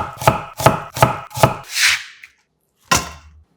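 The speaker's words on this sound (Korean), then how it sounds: "양파 반개도 얇게 채 썰어 담고" A knife slicing half an onion thinly on a cutting board: four quick, evenly spaced chops with a brief scraping sweep, a pause, then one final sharp cut, close and crisp, with no talking.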